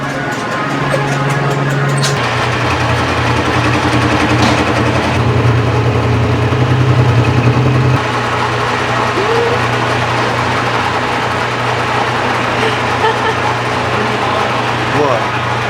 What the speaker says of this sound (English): Throw this in the lathe and machine it down.